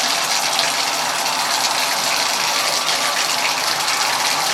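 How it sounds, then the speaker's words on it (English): Water gushes steadily from a shower and tub faucet after the supply is turned back on during a Moen or Delta valve repair, a close, loud, continuous broadband rush with no talking. "Got to turn the water back on."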